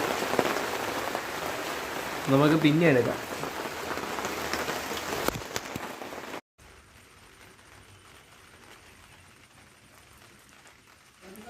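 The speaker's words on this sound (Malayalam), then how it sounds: "അകത്ത് കയറിയിട്ട് ഭയങ്കര മഴ കേട്ടോ, നല്ല രസമുണ്ട് കേട്ടോ" Heavy rain pours steadily outside during an evening Ponkala shopping day in Vellanadu, a loud continuous hiss and patter that drops to a quieter, more muffled wash partway through, with a brief voice heard early on.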